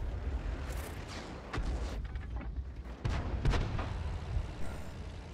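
Video-game gunshots boom a few times at irregular intervals over a continuous low rumble of battle ambience, with the heavier shots standing out clearly.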